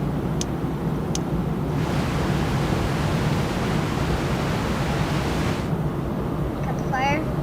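A building burns in the video game Teardown, a steady, dense roar of fire that fills the whole stretch without pause, with a few sharp ticks early on and a faint voice-like chirp near the end.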